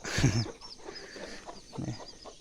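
Several hens and chicks clucking in short bursts in the morning, close by, with quieter background clucks between them and no talking.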